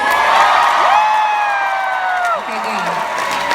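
Concert crowd at a show in Seattle cheering and whooping, a dense wash of voices with rising and falling shouts, loud and sustained before easing off.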